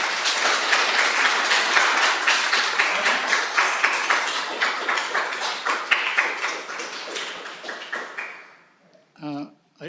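Audience applause at a town council meeting rises and fills the room for several seconds, then thins out and fades, and a voice speaks briefly at the end.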